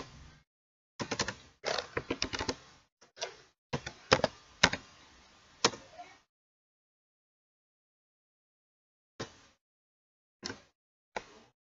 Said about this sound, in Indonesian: Lalu kita ketikkan skripnya, perhatikan pada layar.